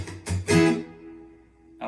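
Acoustic guitar playing a rhythm: a few sharp percussive strums, then a full chord that rings out and slowly fades, with another strum at the end. Close and alone, no talking.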